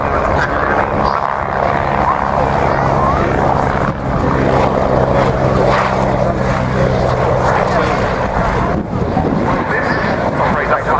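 A helicopter flies at an airshow at RNAS Yeovilton, a steady loud rotor and engine roar that persists throughout, with wind buffeting the microphone and a low droning hum beneath.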